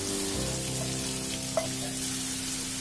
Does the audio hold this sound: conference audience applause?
no